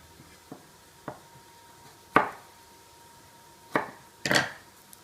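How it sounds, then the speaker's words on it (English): Knife chopping garlic cloves on a cutting board, five sharp separate taps at irregular intervals over a faint steady hum, the later strikes louder and closer. "I'll go and cut up some garlic now to add to the onion."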